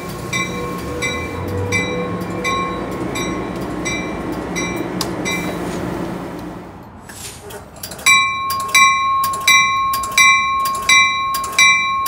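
A Metrolink train at Fullerton station, rumbling and braking as it pulls in, then a level-crossing bell rings in a steady, loud repeating clang over the idling train, with no talk.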